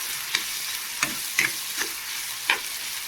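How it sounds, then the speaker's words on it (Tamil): Tomato curry with turmeric stirred in a pan, giving a soft steady sizzle broken by five spaced scraping strokes of the spoon, close and moderately quiet, with no voices. "இப்போ நல்லா கிளறி விட்டால் நல்லா வேகணும்."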